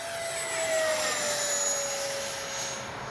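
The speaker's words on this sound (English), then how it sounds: "McDonnell Douglas F-4 Phantom. Beautiful plane. Coming right at us." A Freewing 90mm F-4 Phantom II RC jet roars overhead with a bright, steady turbine whine, swelling as it approaches then easing slightly as it passes, alone without talk.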